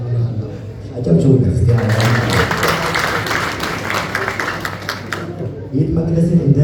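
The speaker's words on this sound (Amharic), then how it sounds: "አጨብጭቡ።" Wedding guests break into a few seconds of steady clapping during a church marriage ceremony, between stretches of an officiant speaking.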